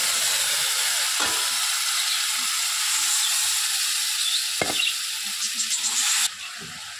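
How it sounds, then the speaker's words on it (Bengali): Steady, close sizzling of spice paste frying in a pan for a potato and pointed gourd curry, a broad hiss with a few brief clinks of stirring, fading slightly at the end. "মশলাটা ভাজা ভাজা হয়ে গেছে"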